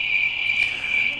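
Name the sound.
cricket chirping sound effect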